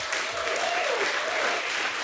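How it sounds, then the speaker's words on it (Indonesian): A crowd applauds continuously at a live anti-drug talk show, with cheering voices and a whistle rising over the clapping. "Beri semangat tepuk tangan buat Gian."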